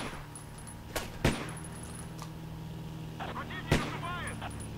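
Gunfire in the video game Battlefield 1942 during a tank battle at Kursk: a few sharp shots and a distant boom stand out over a steady low engine rumble, with no talk.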